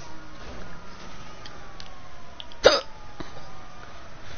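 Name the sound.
hiccups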